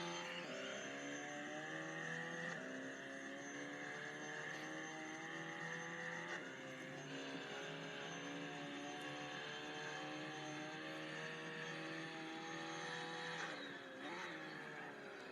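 A Mitsubishi Evo engine pushed through a hot lap in a racing video game, revs climbing and dropping through gear changes with a steady harsh whine, moderately loud and continuous, no talking.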